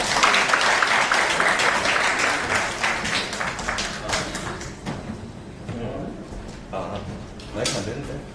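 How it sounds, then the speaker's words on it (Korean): An audience at a university business forum applauds a presenter, with dense clapping that gradually thins into scattered claps and thumps, some voices murmuring through it. "박수로 부탁드립니다"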